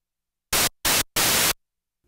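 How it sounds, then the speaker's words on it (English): Filter self-noise from a Korg MS-20 synthesizer with both oscillators turned fully down: three loud, full-range hiss bursts, the last longest, separated by silence. "the source of this noise is actually coming from our filters"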